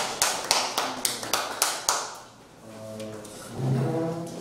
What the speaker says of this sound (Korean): 송 목사님 박수 한번 치죠